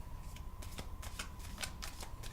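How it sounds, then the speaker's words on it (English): Soft riffling and flicking as a deck of cards is handled and shuffled, a quick run of light papery snaps over a steady low hum, fairly quiet and with no talk. "I'm going to pull a different deck of cards"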